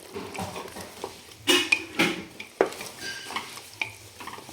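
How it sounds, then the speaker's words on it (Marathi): A spoon stirs mutton curry in a pot, scraping and clinking against the metal in a few sharp strokes over a soft simmering sizzle, close and fairly loud. "आणि चांगलं हलवून घ्यायचं आहे याला."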